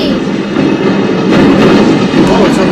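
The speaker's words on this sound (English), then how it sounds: "Oh, that's a train." A passing train in a video game rumbles loudly and steadily throughout, swelling slightly louder midway, with no talk over it.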